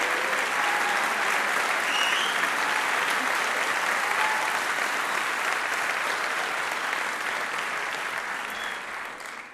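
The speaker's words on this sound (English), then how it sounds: "a big round of applause for our pilot" Audience applause for the pilot at a student design team presentation, loud and sustained dense clapping that holds steady and then gradually fades toward the end.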